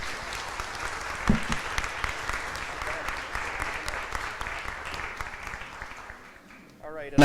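Audience applause at a Social Media Breakfast talk in Minneapolis–St. Paul, a sustained clapping wash from a room of people that tapers off near the end before a voice begins.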